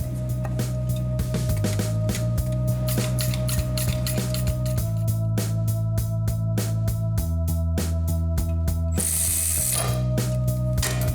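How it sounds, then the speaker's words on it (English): Bolting the transmission to the engine of a 1971 'Cuda convertible 340 with a 3-speed manual, a ratchet clicking rapidly and continuously as the screws are run in, loud and close with no talk. "So right in here is where we bolt the two together. I have to put 4 screws in here."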